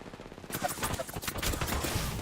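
An enemy squad fires on the player in Apex Legends, a rapid close burst of gunshots packed together and running through most of the short stretch.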